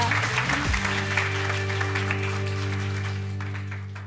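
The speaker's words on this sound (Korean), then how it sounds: "자, 박수로 청해 듣도록 하겠습니다" Audience applause breaks out at a lively lecture-style talk show on cooperatives, a dense wash of clapping over a sustained musical tone, fairly loud at first and slowly tapering off.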